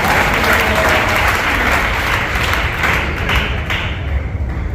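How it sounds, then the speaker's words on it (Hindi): A seminar audience breaks into loud, sustained applause for a speaker, the dense clapping holding steady for about five seconds with no voices. "ताली होनी चाहिए इस इंसान के लिए यार"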